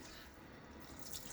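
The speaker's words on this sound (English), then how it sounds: "rinse my razor off here" Faint tap water runs briefly and steadily at a sink while a razor is rinsed during a shave, a soft continuous hiss with no talking.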